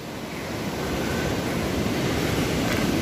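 Sea waves washing in over a sandy cycling route, a broad steady roar of surf that swells slightly louder over a few seconds, close and continuous with wind noise and no voices.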